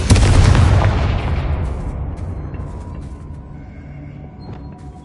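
A single heavy Confringo spell blast from Hogwarts Legacy, a loud booming impact at the start that rolls off into a long fading rumble.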